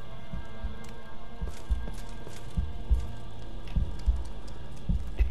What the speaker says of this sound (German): Ich höre hier voll einen Herzschlag.